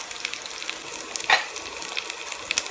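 Chicken pieces frying with onion in a pan, a soft steady crackling sizzle with scattered pops and a brief louder spatter, fairly quiet and close, no voices.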